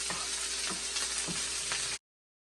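Bok choy is stirred and tossed in a hot pan, giving a continuous close sizzle broken by periodic scraping pushes of the greens, alone and fairly loud before cutting off abruptly.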